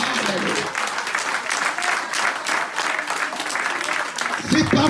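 A church congregation claps during a French-language sermon, with steady applause throughout and voices mixed in, swelling slightly at the end.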